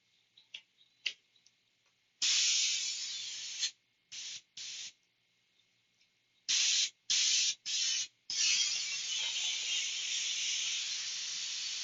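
An airbrush sprays satin clear coat onto a vinyl toy: loud close hissing bursts, some short and some sustained, with faint ticks and small clicks in the quiet gaps before the spraying settles into a long continuous hiss.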